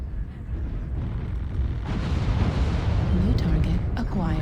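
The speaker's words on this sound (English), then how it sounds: "so that's an airstrike" Heavy rumbling airstrike explosions in a shooter video game, a sustained roaring blast that swells midway, with gunfire and a voice talking over the noise.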